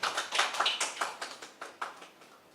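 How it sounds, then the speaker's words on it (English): Scattered claps from an audience at an annual alumni meeting, a few quick irregular hands in a short burst that thins into separate spaced claps, fairly faint and with no talk over it. "Let's appreciate and applaud Ngere for the secretary."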